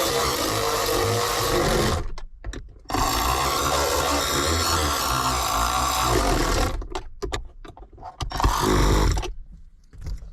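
A power driver whirs loudly and steadily as screws are tightened into a Chevrolet Trailblazer center console lid, with two long runs broken by short pauses and a final brief burst.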